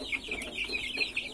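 Chicks and hens cluck and cheep inside a chicken coop, a steady overlapping chatter of high peeps and soft clucks at moderate loudness with no talking.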